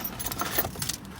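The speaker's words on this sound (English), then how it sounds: "This is a lot of keys." A big bunch of house keys jangles and clinks close by, in irregular rattling bursts with brief pauses between them and no voices.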